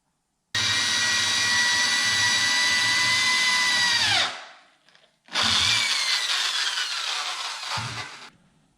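A power drill whines loudly for several seconds, winds down, then starts again for a second burst before stopping, drilling a hole while rebuilding a 1966 Corvette steering column.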